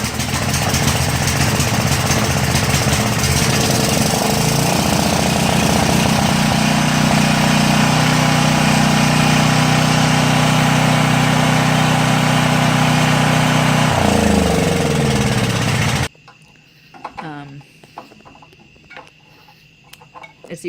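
A Briggs & Stratton generator engine, freshly back from a carburetor rebuild, runs loud and steady at a constant drone for about sixteen seconds, then shuts off abruptly, leaving quiet background.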